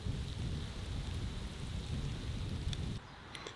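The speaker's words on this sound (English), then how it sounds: "And it's starting to rain." Steady rain falling across a very large cemetery among rows of memorials, a continuous dense patter with a low rumble throughout, easing and thinning toward the end.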